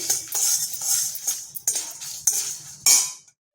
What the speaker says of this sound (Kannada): ಈಗ ಇದಕ್ಕೆ ಜೀರಿಗೆ ಮೆಂತ್ಯ ಹಾಕ್ಕೊಂಡು ಒಂದು ಸ್ವಲ್ಪ ಹುರಿತೀನಿ